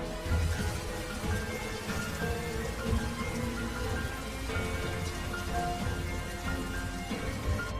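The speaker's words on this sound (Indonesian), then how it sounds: "lebih menikmati air hujan yang turun malam itu" Steady rain pours at night, a dense, even hiss of drops on surfaces that holds throughout with no voices.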